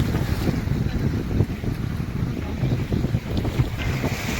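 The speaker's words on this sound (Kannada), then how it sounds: "ನೀವು ನೋಡ್ಬೋದು ಅಲೆಗಳ ಅರ್ಭಟ ಯಾವ ರೀತಿ ಇದಂತ ಇಲ್ಲಿ" A steady, loud roar of rushing, churning waves at the overflowing Tungabhadra Dam in Hosapete, buffeted by gusts of wind against the microphone, with no voices.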